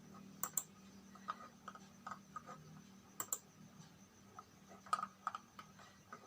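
Grades being typed on a computer keyboard: sparse, quiet key clicks in small clusters with pauses between them, over a low, faint background hum.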